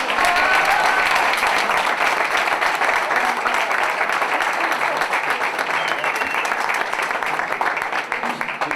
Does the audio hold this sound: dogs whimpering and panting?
no